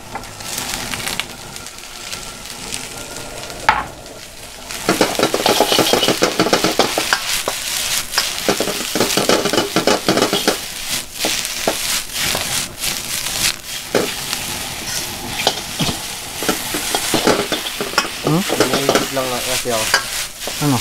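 Cabbage being stir-fried in a wok for a budget home dish: a continuous loud sizzle broken by scraping and clattering strokes of a utensil as the shreds are tossed and stirred.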